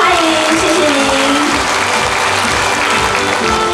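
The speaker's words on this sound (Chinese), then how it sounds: "掌声欢迎，谢谢， 欢迎。" Audience applause at a Taiwan Railway Labor Day ceremony honoring model workers, welcoming officials as they are introduced; steady, dense clapping throughout with a faint voice underneath.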